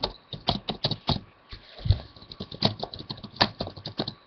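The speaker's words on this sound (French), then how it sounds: "Et quand je l'écris, je regarde pas les claviers," Fingers tapping out a message on a phone keyboard, a quick irregular run of light close clicks and pats with short pauses, soft and steady, no voices over it.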